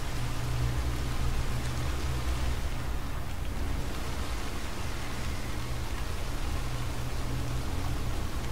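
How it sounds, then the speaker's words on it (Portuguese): Heavy rain falls in the Red Dead Redemption 2 video game world, a constant, even wash of hissing downpour lasting throughout with no voices over it. "Tá uma chuva brava."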